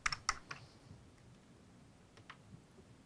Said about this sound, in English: I could type another number and send the lights specifically